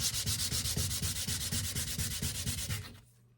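A small round decorative cast resin part is sanded by hand in quick, even rubbing strokes, a steady close scratchy rhythm of about twenty passes that stops abruptly near the end.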